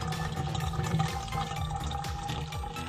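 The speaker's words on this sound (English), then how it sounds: "Go ahead and pour the Coke in." Coca-Cola is poured into a container, a continuous gurgling, splashing flow that stays at an even level for about three seconds, with no talk.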